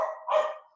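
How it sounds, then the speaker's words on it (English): A dog barks in the background indoors, one or two short, sharp barks close together that quickly fade, moderately loud with no talk over them. "Apologies if you can hear my dog barking in the background."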